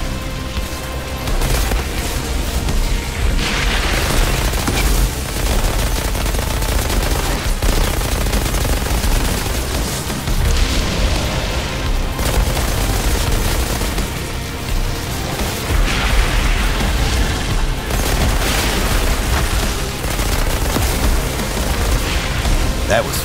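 Sunfall submachine gun fitted with the Firestorm mod in Outriders, firing long, loud sustained bursts mixed with booming impacts and fiery crackle, nearly continuous throughout, with a voice speaking under the barrage.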